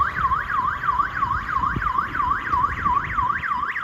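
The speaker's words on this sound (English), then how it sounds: "somebody set off an alarm" A wailing siren or alarm on a New York street near the High Line, its pitch sweeping up and down in a steady repeating cycle, loud and continuous over traffic and city rumble.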